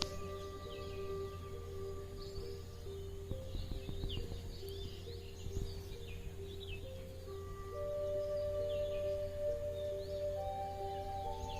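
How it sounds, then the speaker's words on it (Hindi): Faint, distant birds chirp and twitter intermittently over a steady low hum and sustained tones. "चिड़ियों की आवाज़ों को सुनें"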